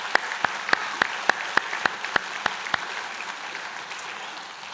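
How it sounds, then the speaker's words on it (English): Sparse clapping at a 2019 trades and apprenticeship convocation for the graduating class, a series of distinct, evenly spaced claps over quiet room noise, fading out after about three seconds. "how about a round of applause for the graduating class of 2019?"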